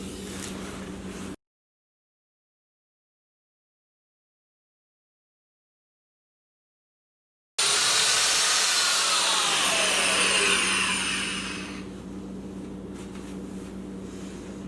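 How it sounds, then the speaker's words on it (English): A power drill driving lag bolts to mount a pull-up bar whines steadily and loudly for several seconds after a stretch of silence, its pitch dropping slightly as it slows near the end. "Then I'm going to level this and then drill the other 2 in."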